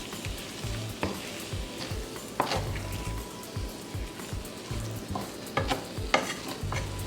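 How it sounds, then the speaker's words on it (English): Beef and broccoli stirred with sauce in a pan over low heat, a steady sizzle with rhythmic spatula scrapes and knocks repeating about once a second. "we're gonna go ahead and add that sauce that I made at the beginning"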